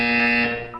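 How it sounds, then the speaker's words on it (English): A loud electronic buzzer in Portal 2 sounds once, a sustained harsh tone that holds for about half a second and then fades. "You will hear a buzzer."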